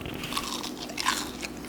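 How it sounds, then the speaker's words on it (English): Crunchy homemade churros, left sitting out a while, bitten and chewed up close, a few sharp crisp crunches followed by softer chewing, with no talking. "And these been sitting out for a little while, but it's still crunchy."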